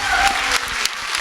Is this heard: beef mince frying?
no